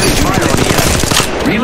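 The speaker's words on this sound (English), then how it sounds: "Shots fired and they're hitting me." Rapid automatic gunfire pours in continuously during an Apex Legends Mobile match as enemy shots strike the player, loud and dense with no pause in the volley.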